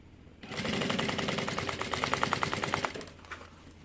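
A sewing machine stitches a zipper onto a fabric bag, giving a quiet burst of rapid, evenly spaced stitching that runs for about two seconds before stopping.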